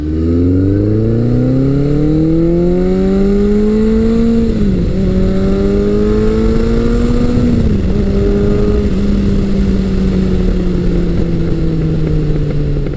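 A Suzuki GS1100G motorcycle engine runs steadily and loudly up close, its deep smooth drone rising slightly in pitch, dipping twice briefly as the revs shift, then holding an even note with no talking.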